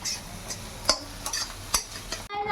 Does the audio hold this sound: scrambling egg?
yes